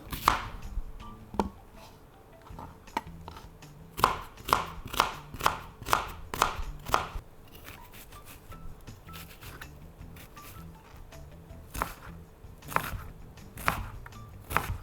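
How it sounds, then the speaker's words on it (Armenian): A knife chops onion on a board for pelmeni filling, with bursts of quick sharp taps, a fast run of rhythmic strikes in the middle and scattered single cuts, close and clear, with no speech. "Կտրատում ենք սոխը։"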